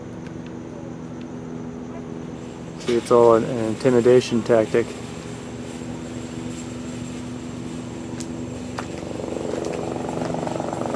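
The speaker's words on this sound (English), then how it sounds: "Buzz in progress, helicopter approaching. You can hear the gradual buildup of the noise." Helicopter rotor and engine noise hums steadily and swells gradually, while someone speaks briefly over it.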